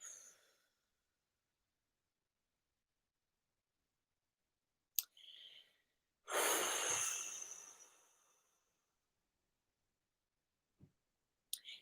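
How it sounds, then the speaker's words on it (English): A single long exhalation, near and fairly loud, lasts about two seconds with a soft breathy fade, set among long silences and a few faint clicks. "breathing out."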